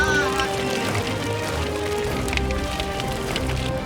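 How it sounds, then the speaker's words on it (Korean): Tuna flap and thrash inside a fishing net during traditional Bulukumba tuna fishing, a dense pattering patter like steady rain, with faint voices underneath. "그런데 물고기 파닥거리는 소리가 꼭 빗소리 같죠."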